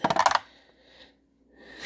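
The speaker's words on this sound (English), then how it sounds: "the fighter is the blue dice, the destroyer is the white dice" Dice are rolled in a World War II board wargame, a quick burst of clattering hits on a hard surface that settles within half a second, close and fairly quiet, then near silence.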